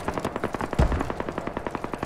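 Rapid machine gun fire from the tactical shooter game Squad, a steady close burst of evenly spaced loud shots with one heavier thump near the start.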